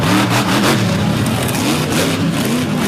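A mud truck's engine revs hard as it struggles to move through mud at a rained-on Fowlerville event, a loud, close, continuous roar that pulses with the throttle.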